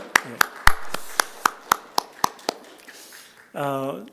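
A church congregation claps in praise during a worship service. About ten evenly spaced sharp claps are close and distinct, then they fade out and a voice begins speaking.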